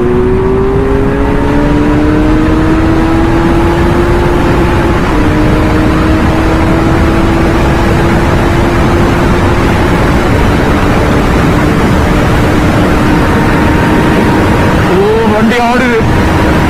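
A motorcycle at high speed on a highway at night makes a loud, continuous engine drone that climbs slowly in pitch, buried in heavy wind rush, with a rough burst of buffeting near the end.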